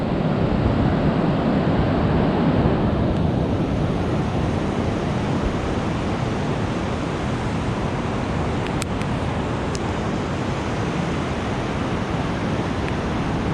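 Ocean surf washes steadily against the rocky shore at Cape Lookout on the Oregon coast, a constant loud roar of waves and splashing with some wind.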